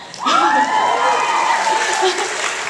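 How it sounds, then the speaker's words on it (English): Audience applause at a Comic Con panel for Sanctuary and Being Human, a crowd clapping and cheering across the whole stretch, with a rising whoop over the patter of hands. "You can clap for that."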